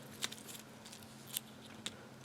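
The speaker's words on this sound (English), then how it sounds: "So when in doubt, use a wire cutter." A wire cutter snips through old necklace string near the knot, giving three sharp, crisp clicks spaced apart over a quiet background with a faint hum.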